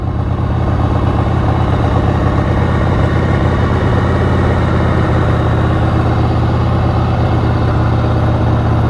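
The engine of a 1988 Harley Sportster XLH 1200 idles steadily up close, a loud, continuous low rumble with its throbbing pulse holding even throughout.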